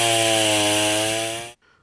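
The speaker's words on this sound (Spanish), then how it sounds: "Con una motosierra, los trabajadores de la comuna realizaron la segmentación del tronco, ramas y la copa" A chainsaw runs loud and steady while cutting up the trunk of a fallen tree on a city street median, its engine whine holding nearly two seconds before cutting off abruptly, leaving faint background noise.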